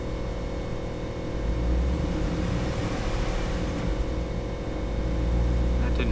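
An old car's engine idling steadily after being started, a continuous low rumble with a faint rise in the middle and toward the end, close and loud with no talking over it.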